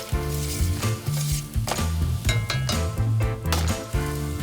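Spices toast and crackle in a dry pan for a Texas-style veggie chili, a close, steady sizzle broken by light clinks and scrapes of a utensil, with a low musical backing underneath.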